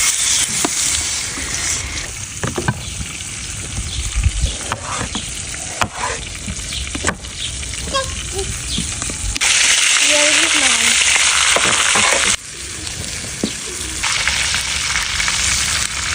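Meat for şapalaq kebab fries in homemade rendered sheep tail fat, a loud, close crackling sizzle with stirring and scraping throughout and sharp pops here and there.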